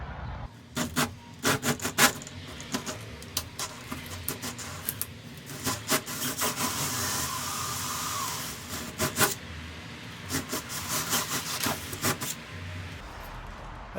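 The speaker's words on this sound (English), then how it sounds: "Set up my 3-inch hole saw so I can cut out this foam pretty easily." A power drill with a 3-inch hole saw grinds through foam insulation in repeated bursts, rasping runs starting and stopping several times, close and fairly loud with no talking.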